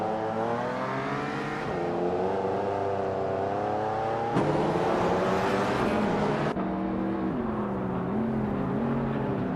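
Race car engines in a racing video game, loud continuous high revving drone with several overlapping engine tones shifting pitch as cars overtake, no talk.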